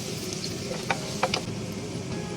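Garlic hits hot oil in a pan while beef pares is being made, giving a steady, even sizzle with a few small pops and ticks, moderately loud and close, with no talk.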